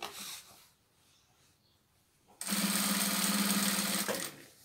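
A sewing machine stitches binding along the edge of a duvet made from a recycled bedspread. Quiet handling comes first, then a loud, close, continuous whirring run of about two seconds stops abruptly.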